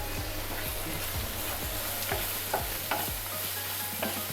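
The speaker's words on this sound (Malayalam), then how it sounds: "മൂത്ത് വരുമ്പോൾ നമുക്ക് കുറച്ച് കറിവേപ്പില ഇട്ട് കൊടുക്കാം." Ginger garlic paste and curry leaves frying in oil in a pan, a steady close sizzle with repeated scraping stirs at an irregular rhythm, no talking.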